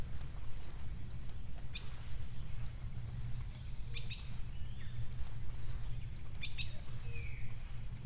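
Sharp bird chirps and short calls ring out a few times over a low, steady outdoor rumble, moderately distant and without speech.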